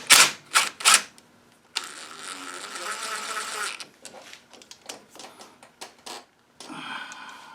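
Impact gun bursts loosening and tightening GMT900 brake hose bolts on a GMT800 truck brake upgrade: two short loud rattling bursts, then a longer sustained run, followed by scattered clicks and a final short burst, close up.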